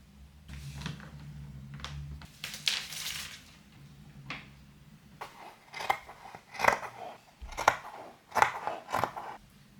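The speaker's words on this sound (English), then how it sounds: "Now let's get to cutting." Scissors cut through fabric for an armchair cover, with a run of crisp, irregular snips and crunches close by, louder toward the end.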